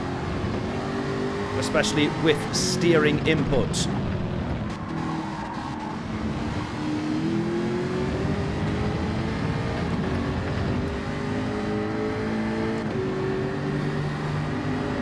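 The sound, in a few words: Jaguar race car engine revving in Gran Turismo 7 video game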